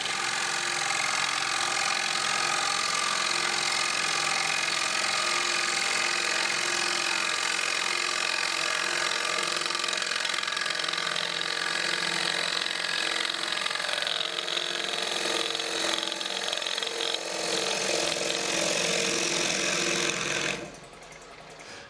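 Fingernail gouge cutting a wooden salad bowl on a lathe, a continuous hissing, scraping shear that holds steady for about twenty seconds before it suddenly drops away to quieter spinning.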